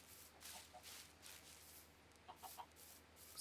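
Chickens in the Minecraft video game clucking in a few short, faint bursts against a quiet background, with no talking.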